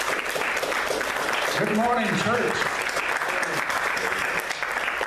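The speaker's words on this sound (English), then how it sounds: "Let's give him a round of applause." Church congregation applauding through most of the stretch, a steady broadband wash of clapping while someone speaks a greeting over it partway through.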